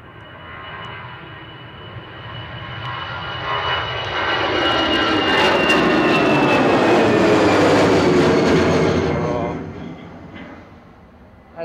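An easyJet Airbus A319 lands at Manchester Airport, its jet engines swelling into a loud, close roar that peaks as it passes, then fades back down.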